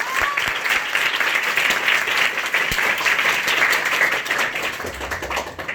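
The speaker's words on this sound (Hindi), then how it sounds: "एक बार प्रेयर के लिए जोरदार ताली होना चाहिए।" A group at a school gathering in Surat, Gujarat, gives loud, sustained applause after a prayer, a dense even patter of many hands clapping close by with no pause.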